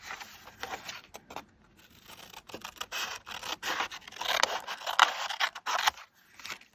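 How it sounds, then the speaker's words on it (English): Scissors snip and scrape through folded paper for a craft lattice card, a string of short crisp cuts close up and fairly quiet, in an uneven rhythm with brief pauses. "I am just roughly going to fold this so I can cut it."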